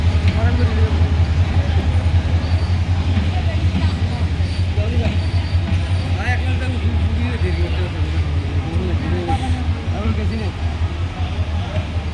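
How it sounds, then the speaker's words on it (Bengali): Sagarika Express arriving at Nangalkot station, a steady low rumble of the train rolling in under the murmur of voices on the platform. "সাগরিক এক্সপ্রেস আসতেছে।"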